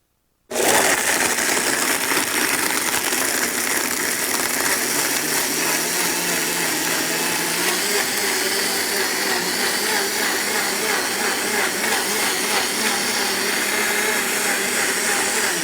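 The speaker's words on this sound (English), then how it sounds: "Top goes in the blender." A blender whirs loudly and continuously while blending a frozen Mudslide cocktail, starting abruptly and running at a steady, unbroken roar for about fifteen seconds.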